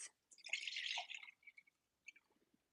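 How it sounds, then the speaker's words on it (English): Spicy cold-pressed immune shot juice pours in a short burst, a bright splashing trickle for about a second, then a few faint drips and dribbles as the stream tapers off, close by with no talking. "we're just going to pour some of this vibrant, spicy juice"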